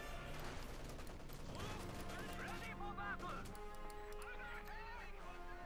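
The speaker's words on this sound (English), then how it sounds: "Heavy machine gun shredding those Panzerfusiliers out in the open." Heavy machine gun fire in Company of Heroes 2 cutting down Panzerfusilier infantry in the open, a dense, steady rattle of gunfire blended with battle noise, with a commentator's voice running over it.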